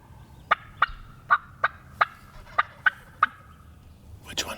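A series of about eight sharp, evenly spaced wild turkey hen yelps carries from a moderate distance over a quiet outdoor background, ending with a brief rustle.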